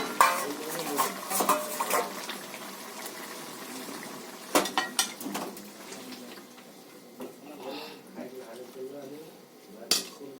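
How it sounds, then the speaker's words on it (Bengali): Malabar spinach tipped into a pan and stirred, with sharp scraping clatters of a spoon against the metal pan in bursts between quieter stretches, and speech heard in places. "এবার আমি পুঁই শাকটা ঢেলে নেব।"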